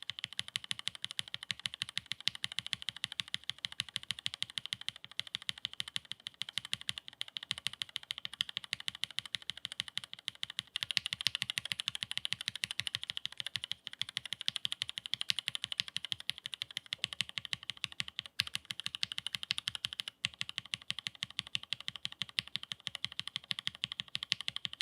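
Rapid, steady typing on a Keychron Q3 keyboard fitted with hand-lubed Frozen Llama switches; dense, close keystroke clicks and thocks run continuously without pause or voices.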